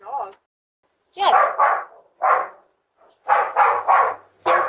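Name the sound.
dogs barking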